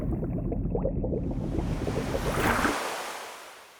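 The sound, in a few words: water sound effect from Splice for beats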